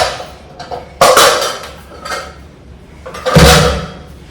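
Pots, plates and cutlery clank and clatter in a few loud, close bursts during dishwashing after tea, with quieter scraping between the knocks.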